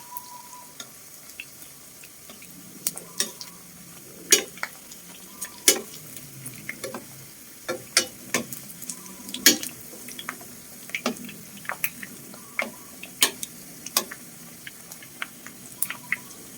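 Black pepper pork sausage fries in hot oil with a soft, constant sizzle broken by irregular sharp pops and crackles, close and clear, with no talking.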